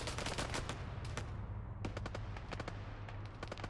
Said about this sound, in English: Anderson in a gunfight right now, pulling out his pistol, taking out VTRPM